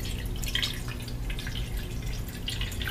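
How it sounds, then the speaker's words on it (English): Water poured out of a small betta fish container, a continuous close trickle and splash with scattered dripping, steady throughout with no talk. "take your net and pour the water that's in here out"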